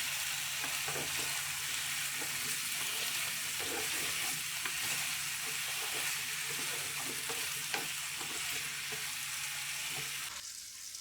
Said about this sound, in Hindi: दोनों चीजों को हम अच्छे से फ्राई करेंगे,